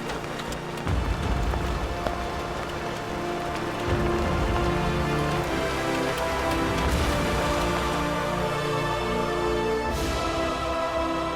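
Rain mixed with some hail falls outdoors during a Survivor-style game finale in Canberra, a steady, loud, dense downpour hissing continuously with no voices.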